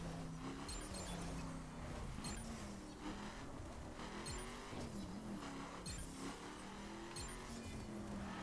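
Circuit-spec race car driven in The Crew racing game, a steady engine drone with shifting pitch running the whole time, loud and close, with occasional tire and road noise.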